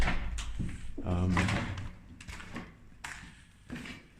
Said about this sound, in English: Steel door.